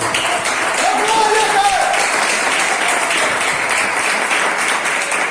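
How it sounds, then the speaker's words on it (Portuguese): Church congregation at an IPDA Pentecostal service clapping together, a loud continuous wash of applause that fills the whole stretch, with a voice speaking over it. "batendo a linda salva de palmas que agradece ao nome do Senhor"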